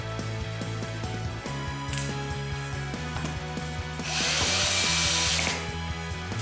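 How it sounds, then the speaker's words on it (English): An 18V cordless drill driver whirs in short bursts with ratcheting clicks, then a longer higher-pitched spin as the screw is driven tight while assembling a grass trimmer. "grab your drill driver just to lock it off"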